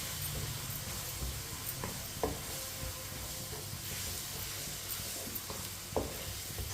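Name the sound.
lentils (masoor dal) added to a pan and stirred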